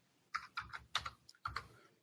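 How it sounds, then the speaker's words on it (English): Computer keyboard typing in a quiet podcast room, a handful of distinct, close key clicks in two short bursts with small gaps between them, no talk over it. "You're literally typing the sentence I'm reading"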